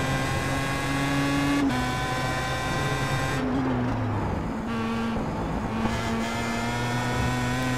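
A Pro Mazda race car engine in a racing game at Interlagos, revving high and shifting through gears, pitch rising and dropping with brief lifts off the throttle, close and continuous.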